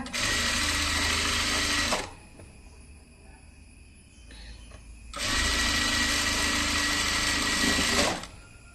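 Sewing machine hemming the bottom edge of a slit V-collar neck kurti, running in two loud steady bursts of rapid stitching separated by a quieter pause with faint handling of cloth.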